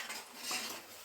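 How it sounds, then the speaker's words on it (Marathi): A utensil scrapes and clinks against a pan while egg rice is stirred, a soft, fairly close run of light metallic scratches and taps, with no speech. "आणि परत ह्याच्याने ढवळलं घ्यायचा."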